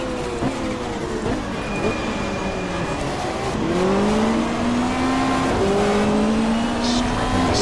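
A BMW 318i touring car races at Mallala circuit during a 1995 Australian Super Touring Championship round, its engine note rising and falling through the gears, loud and close, with a commentator talking over it.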